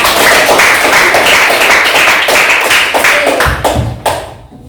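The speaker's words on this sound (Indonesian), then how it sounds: "Tepuk tangan untuk Aditya." A classroom of students applauds a classmate, Aditya, dense steady clapping from many hands that carries for several seconds, then thins and fades out near the end.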